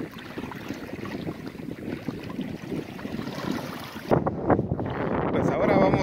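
Wind rushes and waves churn across a large lake during a fishing outing. A steady, loud broadband roar with gusty microphone buffeting runs throughout and shifts in tone near the end.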